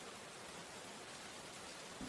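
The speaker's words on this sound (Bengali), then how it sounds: "কি যে বৃষ্টি শুরু হলো! কাল থেকে একরকম বৃষ্টি হয়েই চলেছে।" Steady rain pours down outside a village home, a dense continuous hiss with no let-up and no voices, holding an even level for the whole stretch.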